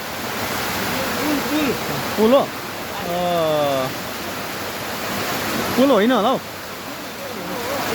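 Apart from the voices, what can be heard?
heavy rain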